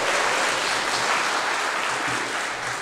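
Dense, steady applause from a debate audience, a continuous wash of many hands clapping with no voices over it, fading slightly at the end.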